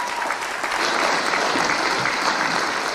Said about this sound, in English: could we have a round of applause for those that shared?